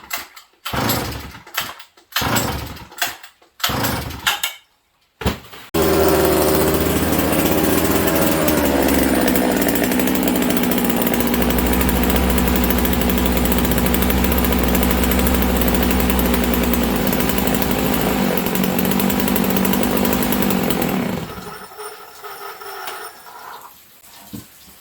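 A Sachs Dolmar 153 100cc chainsaw first gives several short sputtering pull-start bursts, then catches and runs loud and continuous for about fifteen seconds before cutting out.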